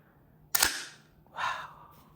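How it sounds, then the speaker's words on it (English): An airsoft GHK HK416A5 gas blowback rifle has its bolt released, giving a sharp metallic clack followed about a second later by a softer sliding clank, close up with no talking. "Obviously you could release the bolt from here too."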